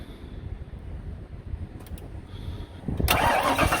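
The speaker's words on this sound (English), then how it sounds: "Fire it up. Start it real quick for you guys." A stock 1993 Ford Mustang LX 5.0 notchback with an aftermarket exhaust cranks and catches near the end, a loud burst of engine noise following a stretch of low rumble.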